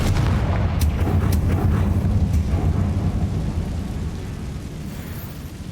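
A Confringo blasting spell explodes in Hogwarts Legacy, a deep rumbling boom that rolls on for several seconds with a few sharp crackles early, slowly fading as it trails off.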